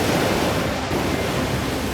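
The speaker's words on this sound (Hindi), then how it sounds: "बड़ी बड़ी लहरें चपेट मार रही थीं" Strong sea waves surge in a dense, steady roar of rushing water, loud and continuous without distinct breaks and with no voices.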